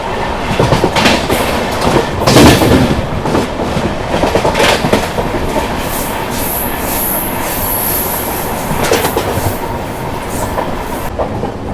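A passenger train on the Tirupati to Bengaluru line rolls steadily along the rails with a loud, continuous rumble, rhythmic wheel clatter and brief high wheel squeals, heard alone up close from onboard.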